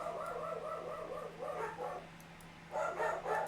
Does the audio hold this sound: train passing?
no